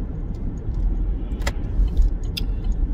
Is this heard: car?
yes